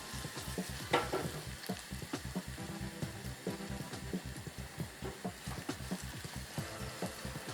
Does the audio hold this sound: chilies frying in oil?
yes